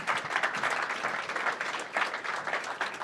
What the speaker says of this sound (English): Can we get one more round of applause for this amazing panel?